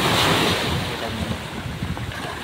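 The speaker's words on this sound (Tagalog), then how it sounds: "sumasalpak yung alon sa" Rough, churning monsoon surf surges and crashes against a seawall by a village hall in the Philippines, mixed with gusty wind buffeting the microphone, no voices.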